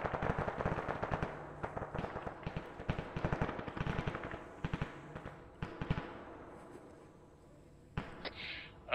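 Bursts of automatic and single-shot gunfire in the video game Arma 3 rattle in rapid clusters, fairly loud and close, thinning out after several seconds, with a voice briefly speaking over the shooting.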